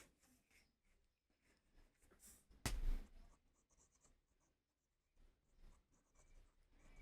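Pencil sketching on paper, drawing simple triangular strokes for a comic figure's toes: soft, faint scratchy strokes with short pauses, plus one louder brushing rub partway through, close and quiet.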